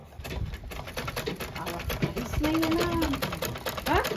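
An oiled sewing machine at a tailor's runs steadily, stitching with a smooth, rapid mechanical rhythm close by, while birds coo faintly in the background.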